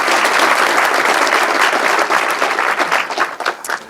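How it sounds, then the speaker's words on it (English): Warm audience applause for a volunteer at a design talk in Amsterdam, a dense, loud wash of many hands clapping steadily, thinning slightly toward the end. "give Drew an applause for his"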